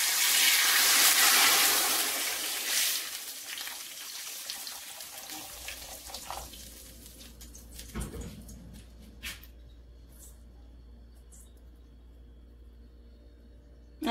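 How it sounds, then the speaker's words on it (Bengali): Hot water poured into a pot of washed wheat, a loud rushing pour for the first few seconds that fades into bubbling and a few clinks of the pot. "গরম পানি দিয়ে দেব"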